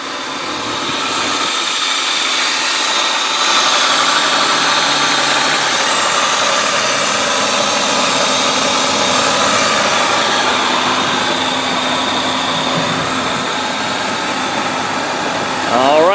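A 1998 BMW 328is coupe idles with the hood open, a steady, even engine hum heard up close and holding unchanged for the whole stretch.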